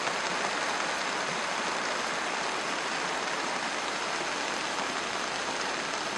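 Heavy rain pours while floodwater coming down from the mountains rushes through a street at night, a dense, loud and unbroken hiss of water filling the whole stretch before it cuts off abruptly at the end.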